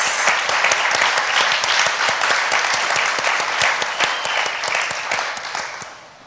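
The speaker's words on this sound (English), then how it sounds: "let's give our student panel a round of applause" An audience at a computer science education event applauds a student panel with loud, dense, sustained clapping that fills the room and tapers off at the end.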